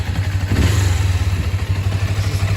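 A motorcycle engine runs loud and close, its rough idle settling back down steadily after the throttle is released, with a low throbbing pulse and some mechanical clatter.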